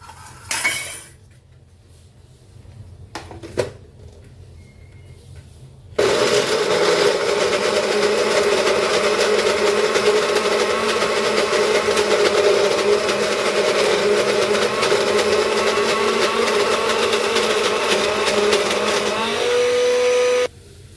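A kitchen mixer grinder whirs loudly and steadily, turning prawn masala into a fine paste. A few brief clatters and a short burst come first, then the motor runs continuously for about fifteen seconds before stopping.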